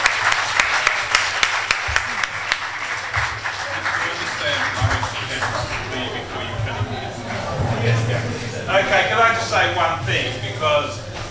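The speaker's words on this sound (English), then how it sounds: "If we could all please give him a big round of applause for coming out." Audience applause in a university lecture hall at ULAB, many hands clapping at first, then thinning out under a speaker's voice that carries on over the fading claps.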